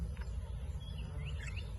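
Small bird chirping in a Singapore park, brief thin calls over a steady low background rumble.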